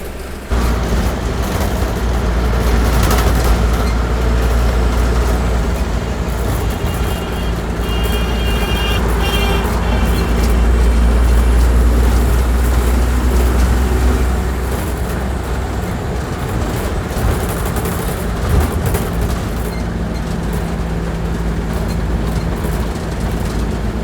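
A bus rolls across the long road bridge at Kolaghat on a Digha to Kolkata journey, giving a loud, continuous engine and road rumble with rattling and wind noise and no talk.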